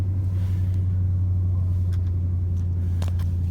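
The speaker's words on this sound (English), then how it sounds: "it's actually kind of a loud muffler" Loud muffler exhaust on a USDM Japanese car fitted with a Magnaflow muffler, a steady, deep, idling rumble heard up close with faint background clicks.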